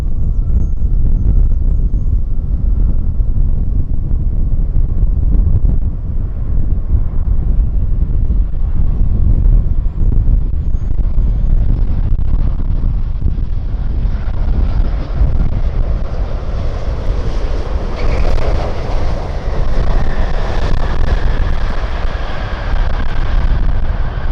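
Strong gusty wind roars as an airliner comes in to land on runway 07 left at Tan Son Nhat airport, a loud continuous rush with jet engine noise swelling toward the end.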